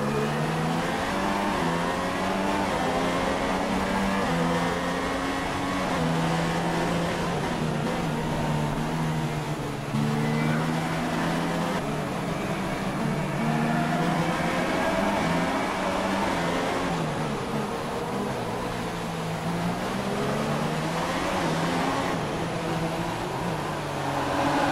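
A voice imitates Formula 1 race car engines from F1 2016, droning continuously through rising and falling revs and gear shifts, loud and close, with no pauses.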